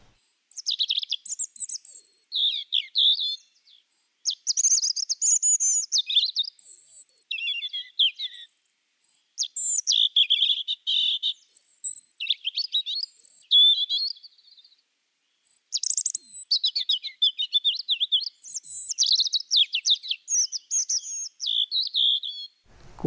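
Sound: tree pipit song

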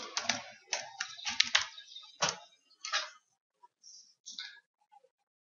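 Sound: typing a password on a computer keyboard

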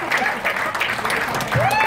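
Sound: audience applause for the bass player

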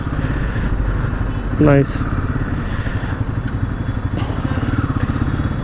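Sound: Royal Enfield Himalayan 450 motorcycle being ridden

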